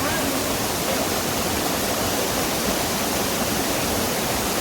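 A natural waterfall beside a deep gorge gives a steady, dense rushing roar that stays constant and fairly loud for the whole stretch, with no voices over it.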